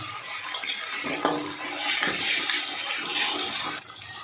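Ginger, garlic, onion and green chilli masala is stirred and fried in a pan over medium heat for a boal fish dish: a spoon scrapes and clinks against the metal under a steady sizzle, close and moderately loud, with no talking.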